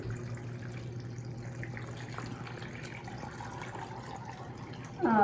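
Six cups of water pour into an Instant Pot for chicken stock, a soft, steady trickle and splash running close by under a low hum, swelling louder in the final moment, with no voices.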